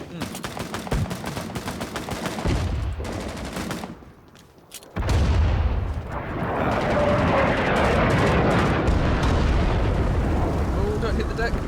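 Airstrike explosions in the video game Cold Waters land with heavy, sustained booming and crackling blasts. They dip briefly to a low rumble, then surge back into a loud, continuous barrage.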